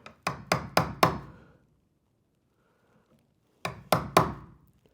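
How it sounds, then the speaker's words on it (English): A chisel is struck into wood to cut out a recess for a door, in two close bursts of sharp knocks, four and then three quick strikes, with a silent pause between. "now I've got to chisel out this bottom one here"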